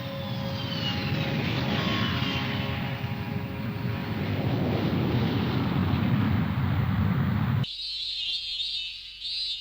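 An airplane engine roars steadily, loud and close with a broad rushing drone and a faint descending whine, then cuts abruptly to quiet near the end.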